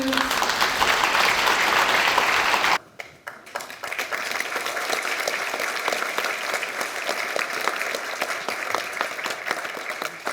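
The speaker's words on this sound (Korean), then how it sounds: "박수." An audience in a hall at a Gyeongsangbuk-do debate on overcoming low birth rates claps steadily, dipping briefly before the dense applause resumes and carries on.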